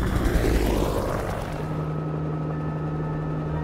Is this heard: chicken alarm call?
no